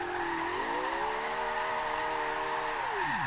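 A 1400hp Porsche 918 hypercar built for drifting runs at full throttle in Forza Horizon 2, its engine rising into a loud, sustained high whine that holds steady and then drops away, accompanied by tire squeal.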